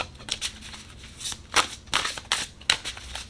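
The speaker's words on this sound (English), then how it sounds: "I'm shuffling." Crisp bursts of tarot cards being shuffled, several quick riffles in an irregular rhythm, close and fairly quiet with no talking.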